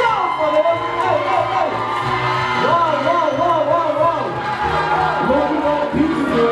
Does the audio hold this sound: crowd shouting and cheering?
yes